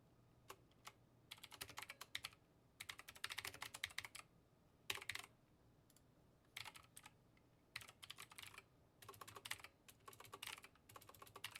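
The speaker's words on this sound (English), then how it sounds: "I should move the microphone a little away from the keyboard." Bursts of fast typing on a computer keyboard sit very close to the microphone, with clustered key clicks separated by brief pauses, steady and fairly loud throughout with no voices.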